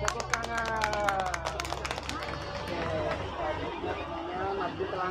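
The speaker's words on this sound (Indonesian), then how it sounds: "Tepuk tangan." An audience claps at a children's literary reading, a burst of scattered, overlapping hand claps near the start that fades under lively crowd chatter and children's voices.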